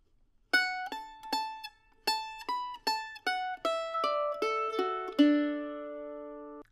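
A mandolin plays the first phrase of a tune in D: a dozen bright, crisp picked notes in a lilting rhythm, each decaying quickly, ending on a longer ringing note, close and solo with no voice.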